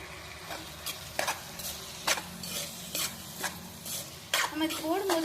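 Ginger, garlic and black pepper paste frying with tomatoes and onions in a pan for a crab gravy: steady sizzle with repeated scraping stirs of a spoon against the pan, close up.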